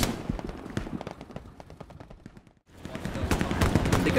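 Rapid bursts of machine gun fire and gunshots in Hell Let Loose during a 100-player attack on Carentan, dense crackling volleys around a brief silent gap, with players talking over the shooting.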